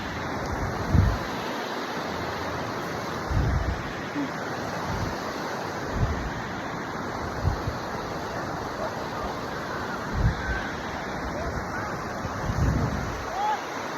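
Ocean surf on a South Wales beach washes in as a broad, steady roar with wind buffeting the microphone, a few louder surges rising through the noise.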